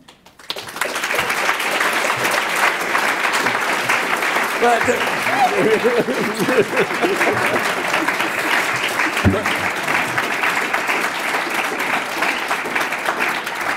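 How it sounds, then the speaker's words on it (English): Sustained applause from a large lecture audience, steady and dense for over ten seconds, with a few brief voices or cheers mixed in. "the applause tells you all you need to know"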